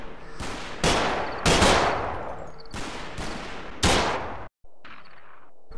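Gunfire in the Combat Mission Market Garden war game: several sharp, loud bursts of rifle and machine-gun fire in an uneven rhythm, each ringing out briefly, then a short pause and a low ambient hum.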